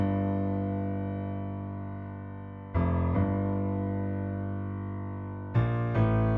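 Low piano bass notes played one after another, each sustained for several seconds with a deep resonant ring, three notes in a slow sequence.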